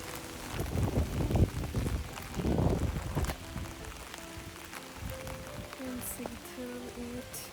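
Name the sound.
rain falling while walking in Copenhagen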